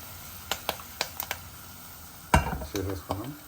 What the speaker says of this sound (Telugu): సో మంచిగా వేగనిద్దాం తాలింపు వేగితేనే బాగుంటుంది